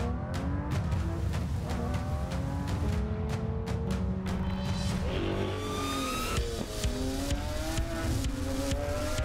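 A Lamborghini SVJ supercar engine revs and accelerates repeatedly, loud rising whines with sharp gear changes, heard among other engine noise outdoors at a cars and coffee meet.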